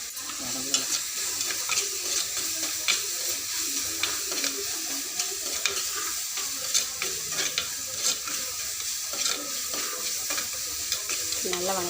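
Onions sauté in a pan with a steady frying sizzle, crackling pops and occasional stirring scrapes, close and continuous, no voices.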